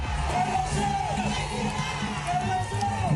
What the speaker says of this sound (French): Mélenchon président, scande la foule